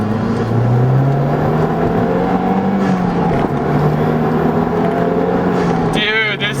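A Mazdaspeed 3 tuned with a Cobb Accessport pulls hard in second gear, its engine note climbing steadily and loudly from inside the car for several seconds before easing off near the end.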